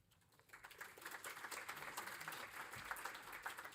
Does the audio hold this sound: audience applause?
yes